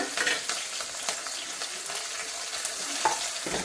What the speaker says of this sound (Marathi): लसूण, हिरवी मिरची आणि आलं चांगलं परतून घ्यायचं।